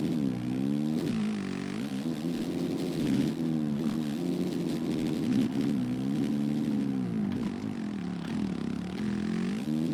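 Husky dirt bike engine revving in MX vs ATV Legends during a motocross lap, a buzzing two-stroke whine rising and falling repeatedly with throttle and gear changes, loud and continuous.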